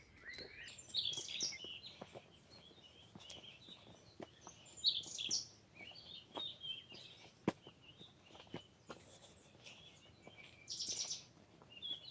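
Scattered bird chirps and tweets ring out in short bursts, some near and sharp, others fainter, over a quiet village background with occasional soft taps.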